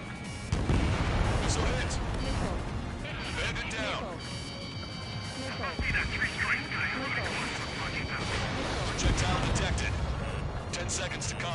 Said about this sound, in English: Missile away. Missile hit.